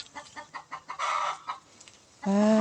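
Chickens clucking in a series of short, rhythmic clucks, then a louder sustained rooster-like call near the end, close and clear with no talk.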